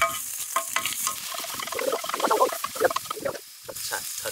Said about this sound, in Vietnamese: Phi hành tỏi cho nó thơm nè.